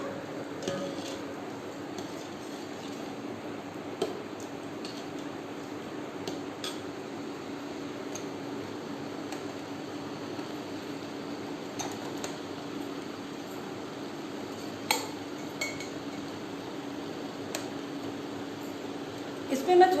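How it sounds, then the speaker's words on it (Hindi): A spoon stirs a mocktail mixture of warm sugar syrup, giving faint, scattered light clinks against the glass over a steady background hum, with no talk. "बीच बीच में इसको थोड़ा सा चलाते रहेंगे।"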